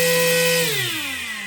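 An RC motor spins a 9-inch 3D printed three-bladed propeller, a loud, close whine that drops steadily in pitch as it spins down.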